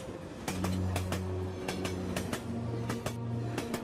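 Moving train rolling along the rails, steady rumble with sharp rhythmic clicks from the wheels over track joints and sustained tonal hum, close and loud.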